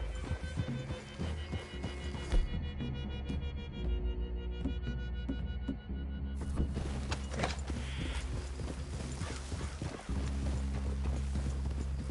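Several horses walk slowly through a wooded clearing, hooves clip-clopping in an uneven, overlapping rhythm under low rumbling background sound, fairly close and steady throughout.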